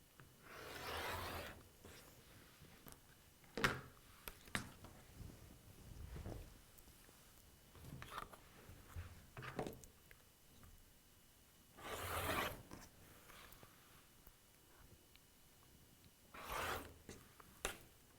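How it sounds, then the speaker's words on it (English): A rotary cutter run along a ruler trims excess fabric off a T-shirt quilt, giving faint, scattered rasping strokes and soft rubbing sounds with quiet pauses between cuts, close and low in level. "Now I need to trim off this excess fabric. I'm going to do that with a rotary cutter and ruler."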